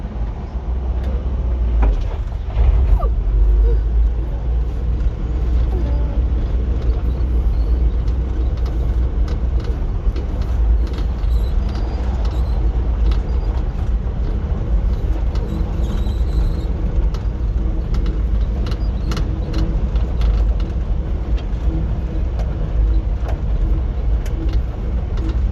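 A 1966 Ford F-100 pickup truck drives along after a gear change, its engine and road rumble a steady low drone heard from inside the cab throughout, with no talk.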